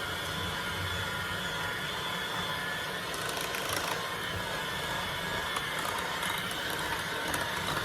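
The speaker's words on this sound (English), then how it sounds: "so I got my mixer. Go ahead and start mixing this up." An electric hand mixer whirs steadily as it beats sweet potato pie filling, a continuous mechanical drone with a faint rattle, close and unbroken, with no talking.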